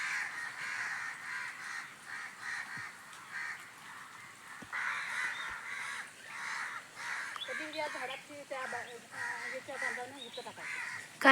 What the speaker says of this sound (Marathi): कावळे ओरडते